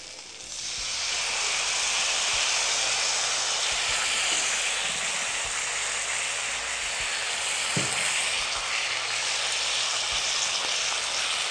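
Tamarind water poured into a hot pan of sautéed ginger gives a loud, steady sizzle and hiss that starts within the first second and holds without a break to the end, with no voices.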